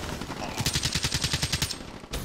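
Rapid automatic gunfire from a suppressed weapon in a Call of Duty Ground War match, roughly a dozen evenly spaced loud shots in a quick burst and then a final shot.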